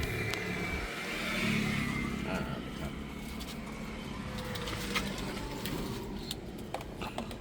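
A used four-door automatic car for sale is started and idles, a steady low engine hum with a brief rise as it catches, recorded outdoors with faint birds and little talk.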